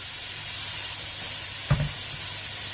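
A steady sizzle and hiss from a pan of fish and vegetables, with one short thump and spatter as sweet potato pieces drop in, then the frying continues evenly, no voices.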